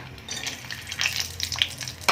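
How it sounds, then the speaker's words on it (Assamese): Almonds frying in hot oil for a kheer, a steady crackling sizzle with light scraping and clinking from stirring throughout. "এতিয়া মই তেল গৰম হ'ল, মই ড্ৰাই ফ্ৰুটকেইটা ফ্ৰাই কৰি ল'ম"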